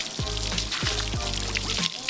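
Rinse water pours and splashes through a washable K&N panel air filter, a continuous close trickle with a few low, rhythmic gurgling surges.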